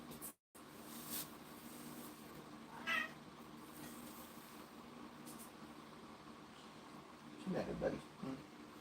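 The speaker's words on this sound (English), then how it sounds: "My kitty cat's angry at me." A pet cat named Toast gives an angry meow up close, a short strained burst near the end over a steady background hum, with a couple of faint earlier cries.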